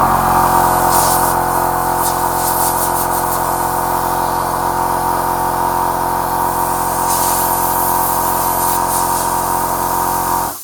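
A VEVOR 12V portable tire inflator air compressor, rated 150 psi and 6 CFM, runs continuously with a loud, steady motor drone and hiss, then cuts off abruptly at the end.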